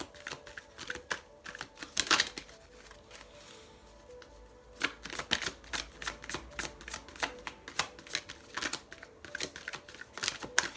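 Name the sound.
shuffling and drawing oracle cards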